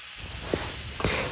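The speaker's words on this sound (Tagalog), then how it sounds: "tapos sibuyas, and then igigisa na natin yung pork." Pork sautéing with onions in a pan for ginisang gulay, a steady close sizzling hiss throughout, with two brief sharper spits or pops about half a second apart.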